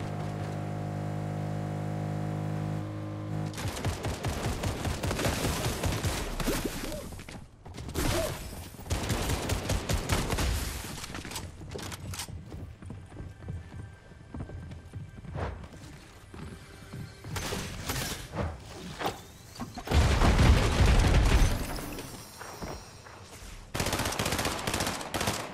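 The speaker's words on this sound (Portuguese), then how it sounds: "já estão atirando lá" Bursts of automatic gunfire from a Fortnite battle, loud and dense, with rapid volleys and pauses between them across the whole stretch.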